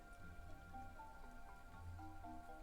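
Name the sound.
rain falling outside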